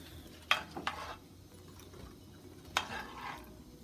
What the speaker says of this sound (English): Give that another quick stir.